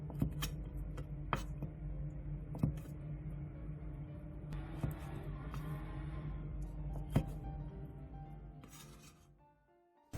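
A knife cuts long fish cakes into bite-size pieces on a cutting board, with sharp, irregular taps spaced a few seconds apart over a faint kitchen background.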